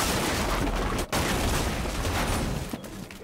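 Dense gunfire from hip shots in a video game, a continuous loud barrage of rapid shots with a brief gap near the start, no speech over it.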